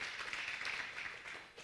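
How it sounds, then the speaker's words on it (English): A lecture audience gives a round of applause for guest speakers, a brief, fairly soft burst of steady hand clapping with no talk. "please give a round of applause one more time for Mr. Putu Suwarta and Professor Michael Robert Wisnom"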